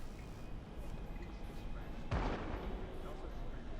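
A single loud, sharp bang bursts from a malfunctioning vending machine in Cyberpunk 2077, ringing briefly over a steady, noisy city ambience.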